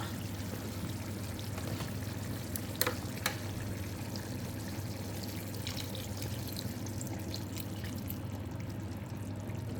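Vinegar poured onto liver frying in a pan brings a steady, dense sizzle and bubbling hiss close up, broken by a couple of brief clinks, with no talk.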